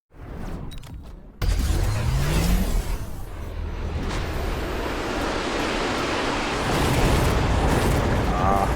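A missile explosion in the strategy video game Mechabellum: a sudden heavy blast followed by a long, roaring rumble that fades slowly, with a voice talking over it.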